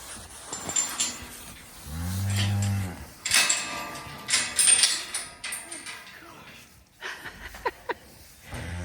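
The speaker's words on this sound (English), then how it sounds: "Chasing calves and cows around." Cows and calves on a farm moo loudly and close, with a long low bellow followed by scattered calls and rustling movement while a person talks.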